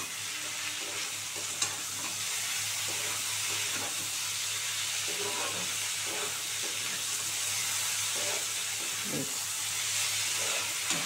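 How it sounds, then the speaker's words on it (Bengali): Green peas sizzling steadily in a hot pan for ghugni, with a constant fry hiss and light stirring scrapes throughout, no speech. "ভালো করে ভেজে নিচ্ছি।"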